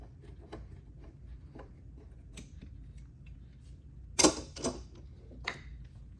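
A clamp is released from a homemade leather-faced mallet with lead weights, giving a brief loud creak and clatter of metal mechanism around the middle, followed by a couple of lighter clicks and soft handling noise.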